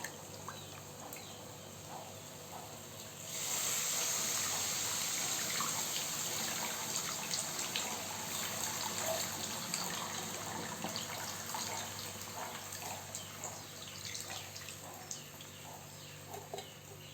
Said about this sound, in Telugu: చింతపండు పులుసు మనకు తగినంత పోసుకోవాలా